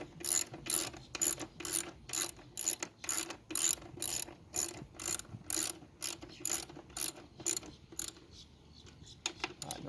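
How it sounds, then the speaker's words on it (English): A ratchet wrench clicks in steady rapid strokes, tightening a lag bolt into a wooden mast step, the repeated pawl bursts close and loud, thinning and slowing toward the end. "Get my lag bolt. Put that in. Tighten it all the way up really good."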